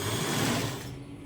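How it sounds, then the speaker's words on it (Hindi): A sewing machine stitches lace and a fabric patti together with a fast, steady mechanical whir that runs for about a second, then fades as the stitching stops. "लेस और पलटे को स्टिच करते हुए हम सिलाई को सीधा नीचे लेके आएंगे"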